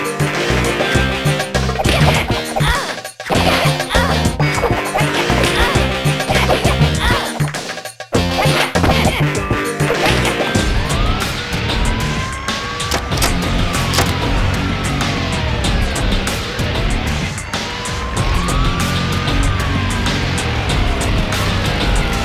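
Loud, dense desert-level background music from the Kim Possible Nintendo DS game, playing continuously with layered beats and melodic lines and a couple of brief breaks.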